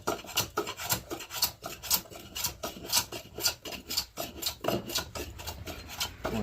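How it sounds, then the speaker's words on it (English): Mulberry wood on a carving hammer is planed to remove a hump, with a steady series of rhythmic scraping strokes, about two per second, close and clear. "I'm just planing off this hump here."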